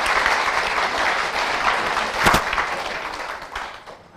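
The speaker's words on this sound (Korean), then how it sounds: "박수 치려면 제대로 한번 쳐보시자고요." Dense audience applause fills a business presentation hall, steady and fairly close, with a brief louder burst midway before fading toward the end.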